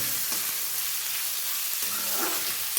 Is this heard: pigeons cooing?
no